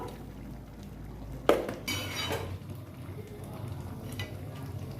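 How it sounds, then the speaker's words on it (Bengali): A pot of chana masala gets a brief stir, with a sharp clink of a spoon against the pot and some soft scraping over faint background noise. "চানা মশলা দিয়ে দিলাম একটু নেড়ে দিই"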